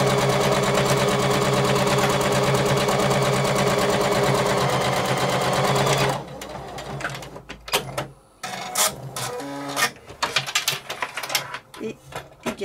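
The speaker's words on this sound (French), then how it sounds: "Je positionne mon pied au bord du tissu et je vais venir faire une couture au point droit." A sewing machine runs a straight stitch along fabric, loud and steady for about six seconds, then stops and gives way to scattered clicks and handling noises.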